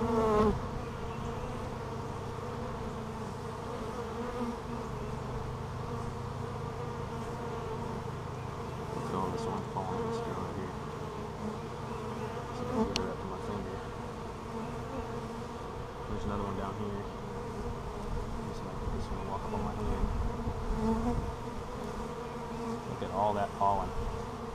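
Honeybees buzz steadily and loudly around a hive holding many queen cells, a dense continuous drone of wings close by that never lets up, with occasional faint human sounds underneath.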